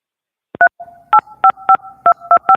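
Touch-tone dialing on a telephone line being reconnected during a meeting: a short steady tone, then about eight crisp, evenly spaced DTMF beeps, loud and close, with no voices.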